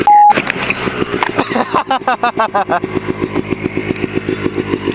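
A dirt motorcycle on an icy trail ride, revving hard in loud, rapid, pulsing bursts close by, the engine note climbing and stuttering as it accelerates.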